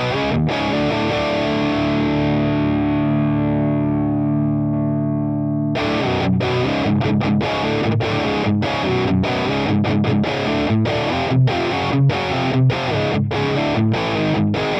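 Electric guitar through a high-gain Orange Tiny Terror amp simulation with a 2x12 cab, loud and distorted: a long ringing chord decays, then tight, rhythmic palm-muted chugs with sharp stops.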